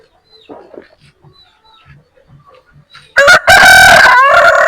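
Village roosters kept free-range crowing loudly and close by in a sudden burst after a few seconds of quiet, with faint scattered bird and yard sounds beforehand.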